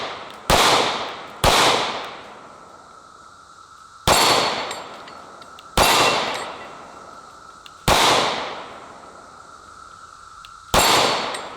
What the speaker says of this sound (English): Let's shoot this mag. Let's try it one-handed.